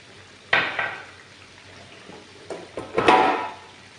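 Onions fry on an electric stove as a spoon stirs through them, with a few sharp scraping clatters against the pan over a low background.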